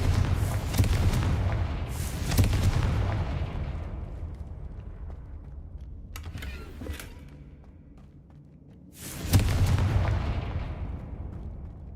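Spell explosions from Hogwarts Legacy, Bombarda and Confringo blasts: three heavy booming bursts with long decaying rumbles, separated by quieter intervals.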